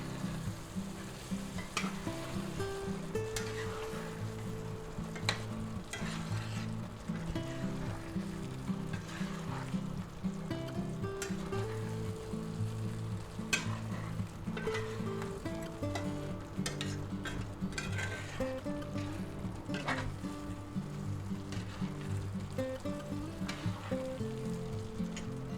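Egg whites are stirred lightly into a sizzling shrimp and lobster sauce in a hot pan, giving a steady, close frying crackle with soft scraping stir strokes and faint ticks throughout, with no talk.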